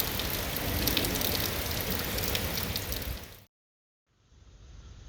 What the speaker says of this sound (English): Unfortunately, the rain was short-lived.